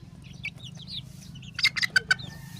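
Native-line chickens, a flock of young roosters and a hen, give a short run of clucks and chirpy calls near the end, close by over a steady low rumble of background noise.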